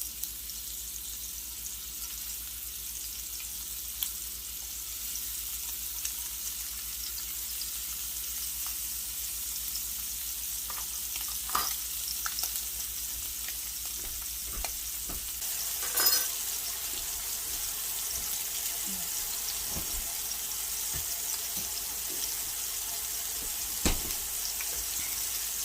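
Scallops sizzle and fry steadily in a pan with lamb, a constant hiss with occasional sharper pops and spatters, close and unbroken by talk.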